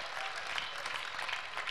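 A church congregation applauds at a revival service, dense steady clapping from many hands filling the room at a constant level without pause.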